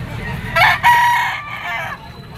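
A stag rooster crows close by, giving one loud, drawn-out call that breaks into a second phrase and then fades, with faint background noise.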